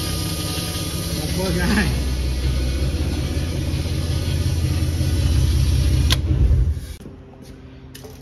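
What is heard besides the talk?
fuel pump and engine running on a Class 7 race truck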